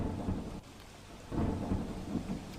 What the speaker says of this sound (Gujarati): તો ડાંગ જિલ્લામાં ભારે વરસાદ